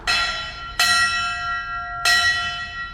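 A fire museum bell rung by pulling its rope clangs three times, each strike ringing out loud and near with a bright metallic tone that slowly decays before the next.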